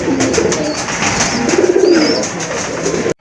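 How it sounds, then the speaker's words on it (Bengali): Pigeons at a Bengali pigeon sale, including a pair of Andalusian-coloured birds, coo in repeated low throaty rolls over a steady background hum, with no talk. "আরেক জোড়া কবুতর, গড়া কবুতর।"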